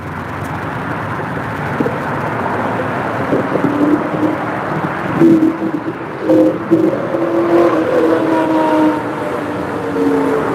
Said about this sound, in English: Obnoxious exhaust on a Mustang.